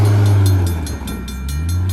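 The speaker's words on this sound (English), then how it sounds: "Oh, here comes the train." A freight train led by two SD40 diesel locomotives and hauling 29 loads up a hill passes close by, its loud, steady engine roar and rolling wagons filling the scene with no talk.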